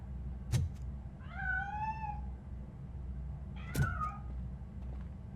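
A cat meows twice, about two seconds apart, in the video game RoboCop: Rogue City. Each meow rises then falls and is heard clearly over low ambient hum, with a sharp click near each call.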